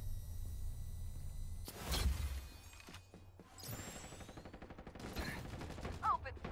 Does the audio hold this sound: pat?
no